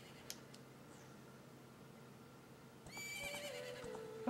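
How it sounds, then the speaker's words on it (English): A horse neighs in the Zelda: Ocarina of Time video game, a rising whinny entering near the end over a steady hum of game ambience, with a faint high tone earlier. "Oh, the horse likes me now."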